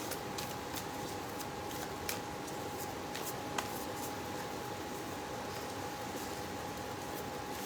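Archetype oracle cards are shuffled with a soft, continuous papery riffle and a few sharper snaps, over a steady hiss of rain.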